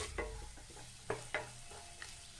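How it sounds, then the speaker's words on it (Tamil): Garlic and onion sautéing in ghee are stirred in a pan, soft sizzling broken by a handful of distinct spatula scrapes and taps, quiet and close with no talking. "இதோட பூண்டை சேர்த்துக்கிறேன். இதை ஒரு நிமிஷம் நல்லா வதக்கி விட்டுக்கலாம்."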